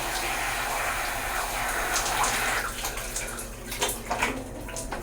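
Shower water runs steadily in a bathroom, a broad continuous hiss that softens partway through into splashing and uneven spatter, with no talk.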